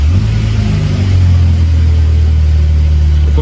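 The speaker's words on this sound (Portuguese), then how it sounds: "Agora eu vou dar partida no veículo para mostrar para vocês." A car engine, a Brazilian vehicle with a quick-release fuel filter, runs steadily at a loud, close, even idle with a deep constant hum and no talk.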